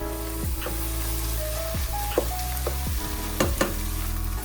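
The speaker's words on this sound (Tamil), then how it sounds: "இது நல்லா வதங்கட்டும்." The base for a turkey ragù sauce sautés in a pan with a dense, constant sizzle, steady and close, with occasional crackles and a few brief utensil knocks over a low hum.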